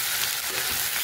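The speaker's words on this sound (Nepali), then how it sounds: "हाम्रो अदुवा लसुन अदुवा लसुन हाल्दा हामी एकछिन भुट्नलाई" Ginger and garlic paste frying in a pan, a dense, loud, continuous sizzle with crackling hiss and no pauses over a short moment.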